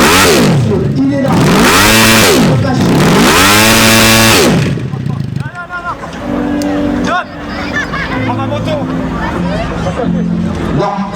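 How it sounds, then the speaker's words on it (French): A hill-climb competition motorcycle engine screams through rapid, high revving bursts at close range, then the note breaks off into rough, uneven sputtering over crowd murmur as the engine fails on the slope. "Le moteur qui a cassé directement et donc vous avez entendu."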